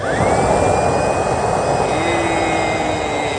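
A homemade pump-fed stove burner, improvised in place of an LPG cylinder, roars steadily and loudly as a broad jet-like hiss with a thin whine above it, close up and continuous without talk.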